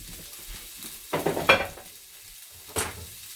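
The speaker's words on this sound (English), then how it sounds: "this pan is ready to go ahead and throw this asparagus in" Asparagus dropped into a hot pan sizzles briefly and is stirred, with a few sharp crackles and clinks of a spatula on metal, and short bursts between quieter moments.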